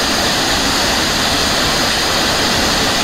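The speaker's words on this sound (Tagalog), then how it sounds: "Ang ganda pala ng waterfalls nila dito." A communal waterfall roars close by in a loud, steady, unbroken broadband rush of falling water, with no voices over it.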